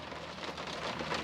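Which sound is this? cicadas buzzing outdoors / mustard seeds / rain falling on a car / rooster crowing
rain falling on a car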